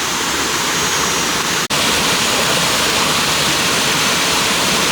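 Roaring waterfall at the Orchid waterfall in the forested hills of Khao Chamao, Rayong, a steady loud broadband rush of falling water that continues without pause, with a brief dropout partway through.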